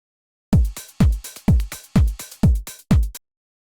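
A steady four-on-the-floor techno kick pattern with short crash hits between the beats, the crash transient cut away where each kick lands.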